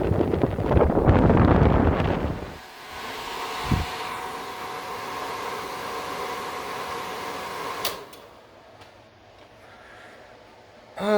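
Electric cooling fan on a 1979 Lotus Esprit, switched through a relay, giving a steady whooshing whir close to the microphone after a loud burst of wind-like noise, then cutting off near the end.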